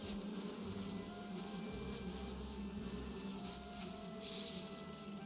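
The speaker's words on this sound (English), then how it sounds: "there's more bees" Bees buzzing in the Viking survival game Valheim: a steady, fairly faint droning hum continues throughout, swelling slightly with a nearby pass toward the end, over soft ambient background.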